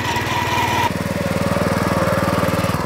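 A multipurpose garden tiller engine (GSM-900G) runs in second gear at high RPM, its loud, steady, rapid knocking drone continuing throughout with a slight shift in pitch partway through.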